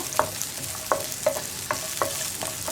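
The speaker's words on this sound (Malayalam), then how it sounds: "ഇനി ഉള്ളി ഒന്ന് ലൈറ്റായിട്ട് ബ്രൗൺ ഷെയ്ഡായി വരുന്നത് വരെ ഇളക്കി കൊടുക്കുക" Onions browning in a pan for a green gram curry crackle with a soft, steady sizzle, punctuated by about six regular scraping stir strokes of a spoon, close by with no voices.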